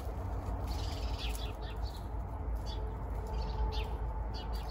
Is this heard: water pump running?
no